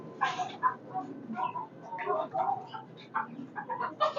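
Chickens cluck softly on a rooftop, including local hens and a white rooster, with short scattered calls that mix with nearby pigeons cooing and a person talking.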